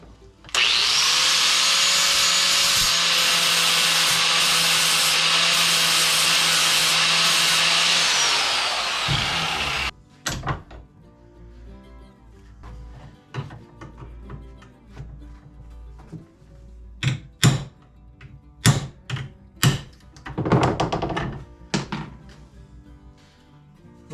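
A power tool whines loudly and steadily for about ten seconds while working a rivet out of an old T-handle. It stops, and a series of sharp knocks and scraping taps follows at close range.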